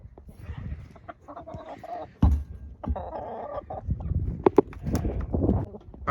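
Fuzzy chickens in a coop cluck and chatter at close range during feeding and watering, with scattered knocks and clatter over the calls.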